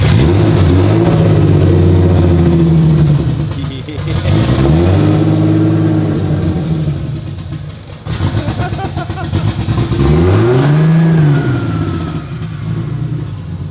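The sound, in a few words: turbocharged car engine revving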